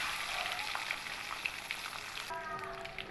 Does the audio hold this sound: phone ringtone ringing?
no